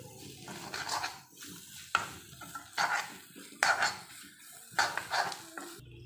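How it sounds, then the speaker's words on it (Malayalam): Egg bhurji stirred in a pan for a Hyderabadi-style recipe, with a spoon scraping and clinking against the metal in several separate strokes, fairly quiet and close, with no talking. "ഒന്നുകൂടെ ഇളക്കി കൊടുക്കാം."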